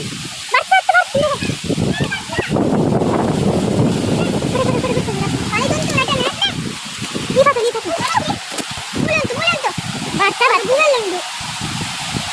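Rushing water of a waterfall at Bajpe roars steadily for a while, with people talking loudly over it through much of the stretch.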